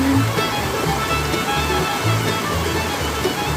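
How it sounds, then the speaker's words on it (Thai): Water rushing steadily along a natural stream near a home in evening cool air, a continuous broadband wash with low churning, close and loud throughout with no talking. "ลำธารที่ใกล้บ้านนี่แหละนะคะ"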